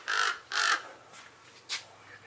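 Crows cawing outdoors near a first-generation Dodge Ram pickup, with two loud harsh caws close together followed by a fainter third call and softer distant calls.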